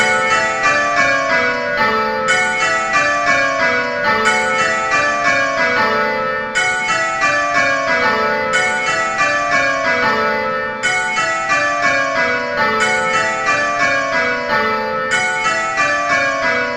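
Simulated church bells rung in Abel bell-ringing software, a full peal of bells cascading in repeated descending rows, steady and continuous with a regular rhythm and no talk.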